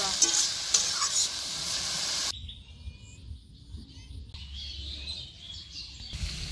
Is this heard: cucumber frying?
yes